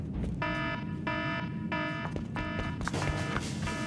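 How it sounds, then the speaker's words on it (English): A loud electronic alarm repeats in rapid evenly spaced pulsing bursts, about five in a row, over a steady background rumble with no talking. "Alarms! Everyone run for cover! We're under attack!"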